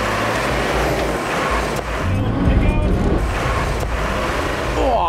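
4WD towing a trailer over rough Stoney Creek Track, its engine revving hard and straining in a loud, continuous rumble with crunching over rocks, while someone talks over it.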